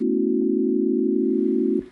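Synthesized tone generated in Desmos, a loud, steady, pure electronic pitch held for nearly two seconds before it cuts off abruptly, with no voices.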